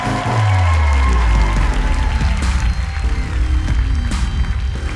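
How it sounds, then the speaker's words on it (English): A comedy club audience applauds and cheers to welcome a stand-up comedian to the stage, with a dense burst of clapping and a few whoops, fairly close and loud throughout. "Please, warm round of applause for Miss Sophia Alexandra"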